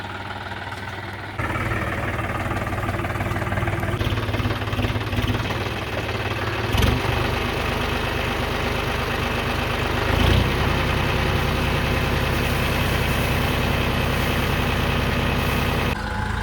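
A JCB 3DX machine's diesel engine runs near at hand, a loud, steady, chugging mechanical drone with a knocking pulse that keeps going without pause, opening on a quieter moment before the roar swells.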